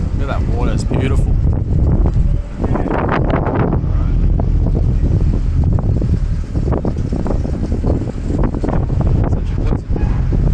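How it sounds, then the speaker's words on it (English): Strong wind buffeting the microphone on a ferry crossing open water, a continuous loud rush with engine and water noise beneath and people talking intermittently. "Such a pleasant ride on this ferry."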